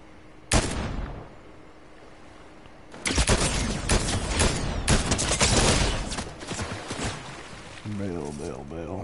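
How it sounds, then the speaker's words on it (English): Gunfire in a video game: one sharp shot rings out, then after a pause a burst of rapid, loud firing and cracks follows for several seconds, with a voice talking over part of it. "Shooting up here to the south"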